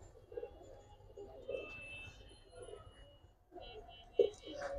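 Large young adult Giribaz pigeons with white beaks and white claws coo in soft, low repeated burrs close by, mixed with faint chirps and some quiet human voices.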